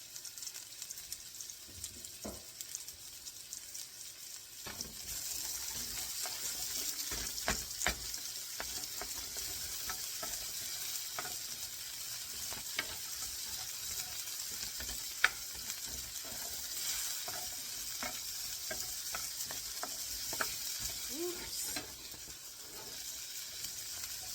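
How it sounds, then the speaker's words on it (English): Onions and finely sliced fresh ginger frying in oil in a pan, a steady bright sizzle that kicks in loudly after a quiet start, with scattered clicks and scrapes of stirring throughout and no talking. "So in the pan I'm going to add my onions."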